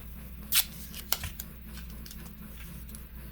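Strip of tape pulled off a roll at a workbench, a sharp ripping burst followed by a couple of smaller crackles over a low hum, close and brief, no talk.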